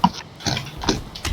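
A pig in the video game Valheim gives a few short, close grunts in an irregular rhythm, each one quick and rough.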